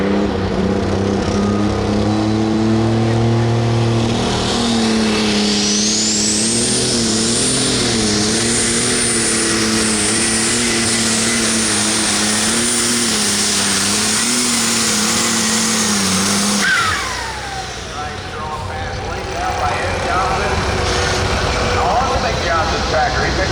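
A pulling tractor at a county fair truck and tractor pull in Tiffin, Ohio roars loud and steady at full throttle with wavering engine tones for about seventeen seconds, then cuts off abruptly into crowd noise and a voice.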